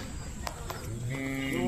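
A Hallikar cow at a cattle fair gives one rising moo near the end, close and clear, over a crowd murmur with brief voices.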